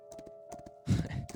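Horse hooves in the video game Love and Deepspace: a few quick clip-clop beats in pairs, followed by a louder thudding burst, close and brief over a steady background hum.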